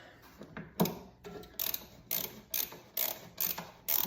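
A ratchet snugs and torques bolts on a 2024 Harley-Davidson lower fairing, giving close, evenly spaced bursts of sharp clicking with short pauses between strokes and no talk.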